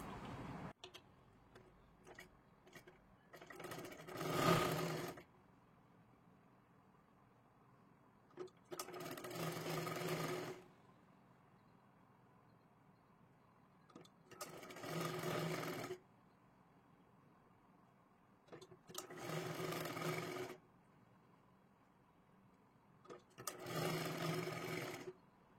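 A sewing machine stitches a sleeve in five separate runs, each a rapid mechanical chatter lasting a second or two, with quiet pauses between them and no talking.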